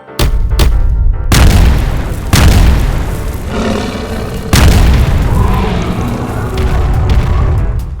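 A cartoon tank fires its cannon in a string of loud, close booms: a sharp blast at the start, then heavy reports near 1.3, 2.3 and 4.5 seconds, each rolling into a long rumbling roar with no talking.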